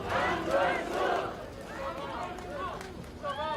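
A large outdoor campaign rally crowd in front of Seoul City Hall chants Ahn Cheol-soo's name in loud, rhythmic massed bursts, with voices rising and falling together.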